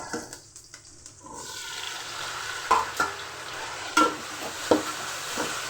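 Tomatoes hit a hot pan for South Indian fish curry and burst into a loud, steady sizzle, with a few sharp clinks of stirring against the pan.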